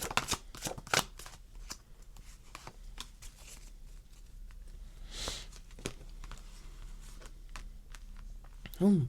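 A deck of tarot cards is shuffled up close, giving soft, quick riffling and flicking sounds with small taps, faint and intermittent, with a brief voice near the end.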